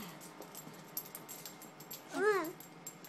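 A puppy gives a short, faint whimpering whine, rising and falling once against a quiet indoor background with soft handling noises.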